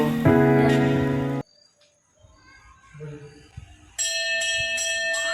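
A temple bell rings in two loud metallic strikes with sustained bright ringing tones, separated by a near-silent gap containing faint rustling and soft voices.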